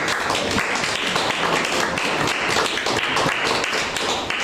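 Audience applause at an education and health conference, a close, loud, continuous patter of many hands clapping at an even level throughout.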